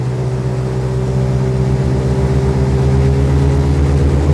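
Nerpa 460KD airboat engine holding a steady drone at about 2500 rpm while the boat cruises, a loud continuous low-pitched hum with strong tonal harmonics and no breaks.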